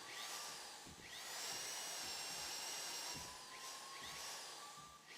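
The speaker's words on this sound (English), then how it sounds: "To control the drill, to push the drill forward." A power drill whirs steadily at close range, its high-pitched whine rising and falling in pitch as it is pushed forward, with a few low knocks underneath and no talking.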